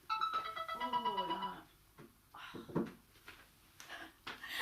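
A phone rings out in a lecture hall with a bright, warbling tone for about a second and a half, followed by scattered fumbling clatter and bits of speech as the ringing stops.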